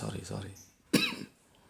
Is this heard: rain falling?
no